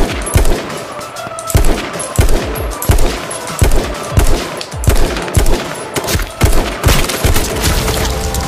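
Rapid bursts of gunfire in the video game H1Z1, loud repeated shots firing in quick clusters with brief gaps throughout.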